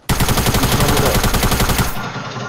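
Rapid automatic gunfire from the video game Fortnite: a loud, close burst of evenly spaced shots fired in quick succession for about two seconds, stopping abruptly with a short tail.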